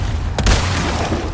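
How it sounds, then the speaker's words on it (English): A single loud rifle shot in the Resident Evil 4 remake, a sharp close boom with a brief heavy tail over a steady game ambience. "Let's hit him with the rifle."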